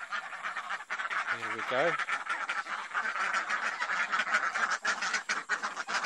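Geese honk on a farm, a few loud close honks early on, then more calls over a busy, continuous bed of bird chatter, with a brief spoken word at the start.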